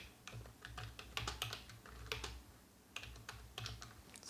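Quiet, close typing on a computer keyboard while entering JavaScript code, irregular clusters of soft key clicks in short bursts with a brief pause midway, no speech.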